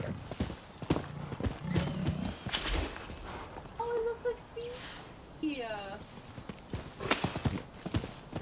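A horse in the samurai action game Rise of the Ronin: rhythmic hoofbeats with a short whinny midway, heard over insect chirping and game ambience.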